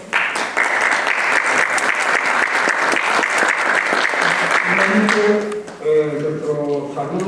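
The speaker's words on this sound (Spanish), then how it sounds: "el doctor Simeón Moncahuel Flores, a quien saludamos y recibimos con un fuerte aplauso." A large audience breaks into loud, sustained applause welcoming a guest at a legal training course, dense clapping for about five seconds before it thins out and a voice begins speaking over the tail.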